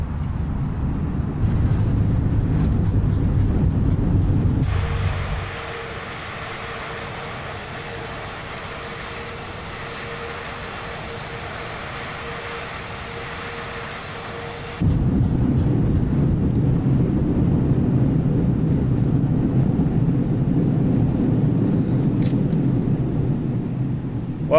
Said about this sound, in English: Reverse thrust.